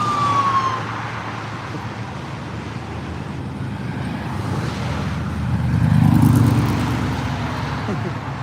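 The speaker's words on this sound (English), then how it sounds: "And we got a old LTD cop car." Siren of an old Ford LTD police car at a street cruise event, a distant wail swelling and fading over steady traffic rumble and crowd noise, with talk in the background.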